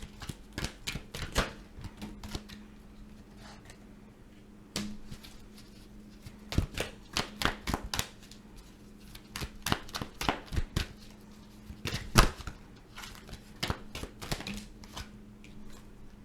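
Tarot cards are shuffled and pulled by hand, bursts of quick papery riffles and flicks with a few sharp taps, close up, with pauses between and no talk.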